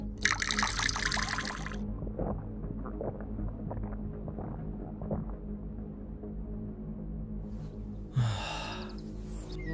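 Water pours into a kamandal in two bright splashing bursts, one at the start and one near the end, with quiet trickling and soft breathing sounds in between.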